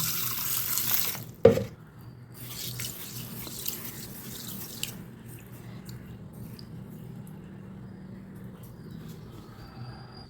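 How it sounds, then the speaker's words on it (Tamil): Water poured from a tap into a bowl to wash horse gram, a short splash and rush at first, then a steady, soft running and trickling sound close by. "தண்ணி ஊற்றி கழுவிடலாம்"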